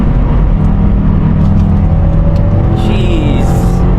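Subaru RA-R engine revving hard on a downshift into a corner, a loud, close, continuous drone with a rising rev near the end.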